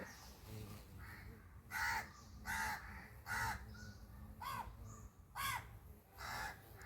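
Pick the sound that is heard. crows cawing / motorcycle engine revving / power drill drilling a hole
crows cawing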